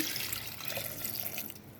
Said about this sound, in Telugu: ఇది మొత్తం వేసుకున్న తర్వాత కొంచెం నీళ్ళు పోసుకొని